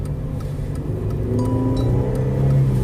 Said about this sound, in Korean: 차가 앞으로 가죠 이제 슬금슬금 앞으로 갑니다